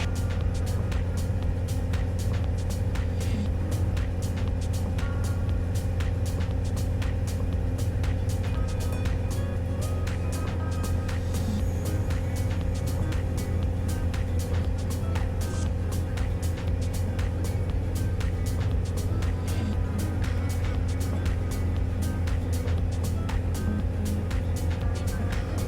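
A 50-year-old small airplane's engine drones steadily inside the cabin in flight, a loud, constant roar with no breaks for the whole stretch.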